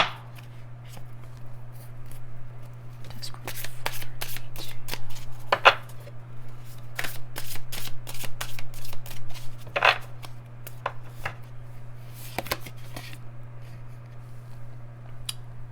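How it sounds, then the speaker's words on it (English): A deck of oracle cards is shuffled by hand in repeated crisp riffling bursts and soft slides, close and fairly quiet over a steady low electrical hum. "I'm going to pull some oracle cards, and I'm using my Threads of Fate Shadow Oracle cards"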